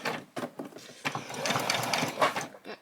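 Sewing machine stitching a small fabric bunny, a short run of fast rhythmic mechanical whirring close by, after a few handling taps and clicks, with a quiet voice briefly at the start.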